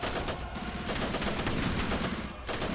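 Dense, continuous gunfire in the video game Ravenfield, a loud unbroken barrage of overlapping shots with no clear gaps.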